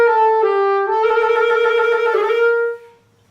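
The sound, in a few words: sloppy uncontrolled saxophone trill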